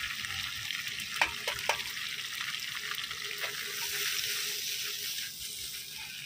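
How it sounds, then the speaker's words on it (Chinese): Cured pork and onion stir-fry in a pan on a camp stove, a continuous close hiss of frying with a few scraping clicks of the spatula as the food is tossed. "来点腊肉， 再炒这个洋葱。"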